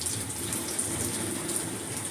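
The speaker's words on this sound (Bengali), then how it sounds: "কি সাংঘাতিক বৃষ্টি হচ্ছে" Heavy rain pouring down steadily, a dense, even rushing wash of water with no breaks and no voices.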